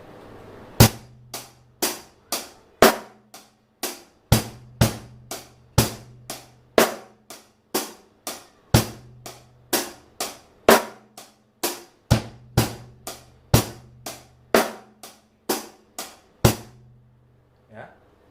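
A drum kit plays a 16-beat pattern with an added kick on the third beat: sharp, evenly spaced hits in a steady groove, with low kick thumps under the crisp strikes, loud and with no talking.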